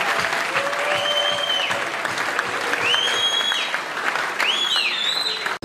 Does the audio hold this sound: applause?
yes